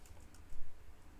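Brief, soft tapping of keys on a computer keyboard, a few quick clicks close by, with no talking.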